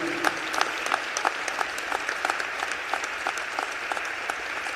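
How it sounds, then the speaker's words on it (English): Steady, sustained audience applause at a state general assembly session, a full room of hands clapping continuously with no speech over it. "So I want you all to give my wife a round of applause"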